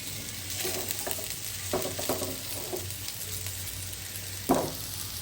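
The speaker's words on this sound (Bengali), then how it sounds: "আর একদম মুরগিটা কষানো হচ্ছে" Chicken sizzles while it is sautéed (kasha) in a pan, with soft spatula stirs and scrapes at a quiet to moderate level and one sharper clack near the end.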